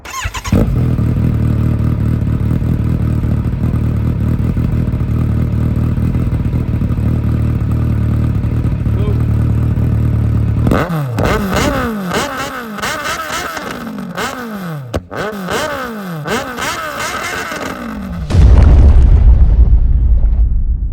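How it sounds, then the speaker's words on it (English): A loud motorcycle engine with a Delcovic aftermarket exhaust idles with a deep rumble, then revs repeatedly in sharp bursts, ending in a hard crackling roar. "So now we're going to have a quick look at Sean's exhaust, which is a Delcovic exhaust"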